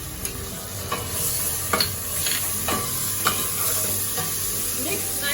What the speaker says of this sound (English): Fry until the raw smell of the ginger garlic paste completely gone.